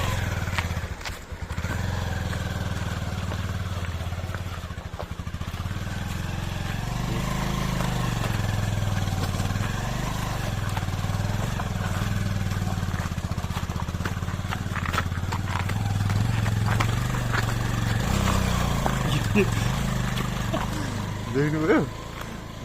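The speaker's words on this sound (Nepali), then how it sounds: "देख्नुभयो बाइक चढेको होला यस्तरी" A motorcycle labours up a steep off-road trail, its engine drone steady and fairly loud throughout, with a voice speaking over it and occasional knocks and rattles near the end.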